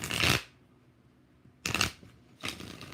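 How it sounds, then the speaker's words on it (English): Tarot cards shuffled by hand in three quick riffling bursts, close and crisp, separated by short quiet gaps. "5 shuffles for Sully."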